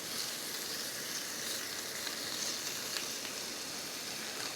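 Two slices of bacon fry in a small Jetboil MiniMo camping pot, a steady loud sizzling hiss with faint crackles, close up and unbroken, no voices.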